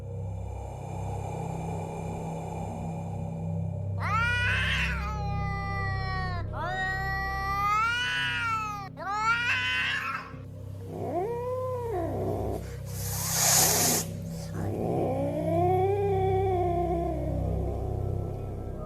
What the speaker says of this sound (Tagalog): Narinig ko muna ang paungol na pagniyaw ng isang pusa